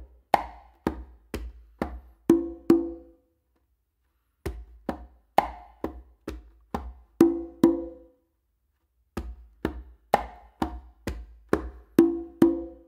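Conga tumbao workout pattern on conga drums: bass finger strokes, slaps and ringing open tones played alone in three clear repeating bursts separated by short pauses, close and crisp.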